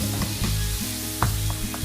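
Garlic paste frying in a pan with a steady sizzle, broken by a few soft scraping stirs.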